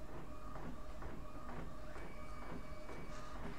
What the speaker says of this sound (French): C'est beau l'imprimante